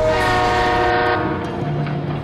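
Train at a station in the Delta Force: Hawk Ops video game, with a loud, sustained horn blast over the low rumble of the rail car, close and alone.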